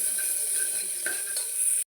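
Dal tempering sizzles in a hot pan, a steady bright crackle running close and continuous for nearly two seconds with a faint stir midway before it cuts off abruptly.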